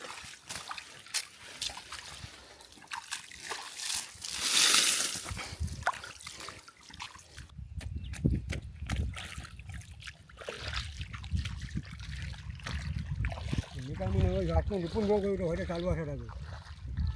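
Water trickles and splashes steadily from a pipe outdoors, with people talking over it at moments and a rushing burst partway through.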